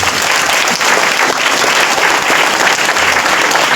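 Congregation clapping during a Christmas church service, a dense, loud, steady wash of applause filling the room for the whole stretch with no speech over it.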